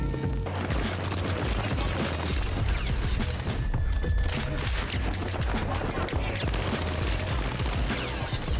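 Rapid P90 submachine gun fire in The Finals, dense sustained automatic bursts, loud and close, with brief gaps and no talk.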